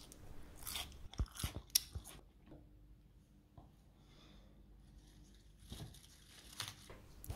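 Close-up crunchy chewing of crisp cold-grown lettuce leaves, bursts of crackling bites separated by quieter moments, no talking.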